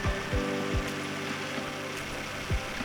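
A Larick 742 Series four-head feed-through wire brush sanding machine runs with its heads lowered, RPM raised and feed speed slowed, giving a steady mechanical hum and drone broken by regular low knocks about every half second.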